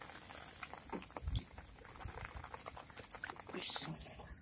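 Steady patter of rain falling around an outdoor fishing spot, with irregular drips and thumps close by and a louder burst near the end, under ongoing speech.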